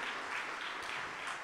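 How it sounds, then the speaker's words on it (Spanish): A church congregation gives a loud applause for the Lord, heard as a brief, even wash of clapping that holds steady from start to finish. "Denle un fuerte aplauso al Señor"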